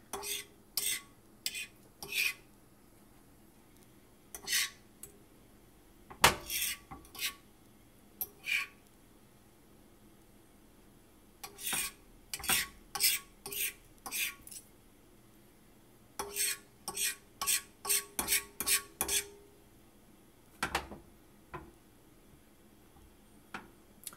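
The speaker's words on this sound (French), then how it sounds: "grattez les œufs de l'extérieur de la poêle dans le milieu" A utensil scrapes eggs around a frying pan in sharp, irregular clusters of scratches and taps, separated by quiet pauses, recorded close up with no talk.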